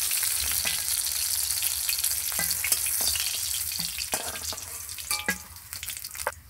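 Catla fish pieces fry steadily in hot oil, a continuous close sizzle with crackling pops and occasional clinks of a utensil, with no talk.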